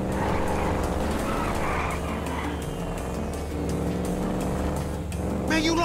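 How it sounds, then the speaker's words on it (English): Big motorbike engine in GTA 5, a loud continuous rumbling roar with wavering pitch as it speeds along, alone without talk. "That's a monster fucking bike you riding"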